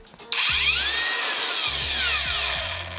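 A Ronix cordless angle grinder with soft start whirs up smoothly from quiet to a steady high-pitched spin, with a low motor hum pulsing underneath; close and loud, no talking.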